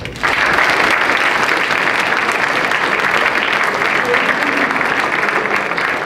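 An audience applauds at a business honors awards ceremony, a dense, loud, sustained wash of clapping from many hands that continues evenly from start to finish.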